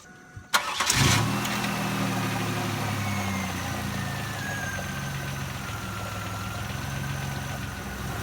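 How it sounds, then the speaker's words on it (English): A 4th-gen Camaro V8 starts with a sharp crank and catch, then settles into a steady, close, loud idle with a faint whine drifting over it, no talking. "turn the car on"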